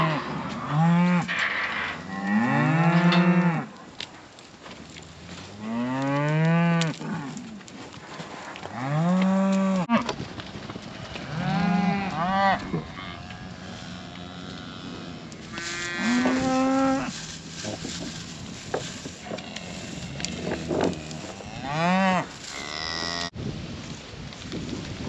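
Cattle moo repeatedly, several long, loud bellows from different animals overlapping and alternating close by, with short pauses between calls.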